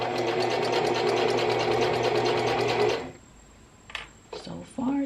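A sewing machine stitching fabric runs fast and steady for about three seconds up close, then stops, followed by a few soft handling clicks and rustles.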